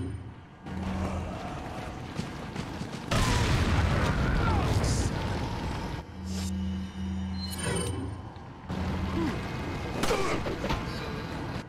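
Grenade blasts in the video game Resident Evil 4, several heavy booming bursts a few seconds apart, loud and rumbling, with mechanical and tonal game sounds between them.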